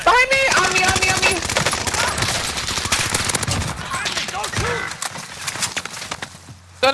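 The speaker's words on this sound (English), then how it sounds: "I'm getting shot from all ways." Shooter video game gunfire rattles in dense, rapid bursts over a busy mix of game effects, loud and continuous throughout with no pause.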